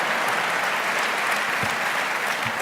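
Audience applause fills a hall during the Atlanta mayor's State of the City address, a steady, dense wash of many hands clapping, moderately distant and without talk.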